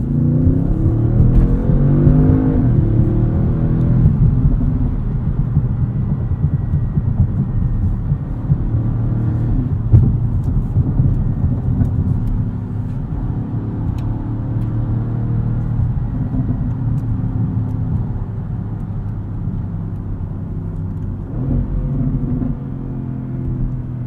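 A 2016 Audi S7 engine in dynamic mode rumbles and revs steadily from inside the cabin, deep and continuous, with occasional throttle swells and no one talking.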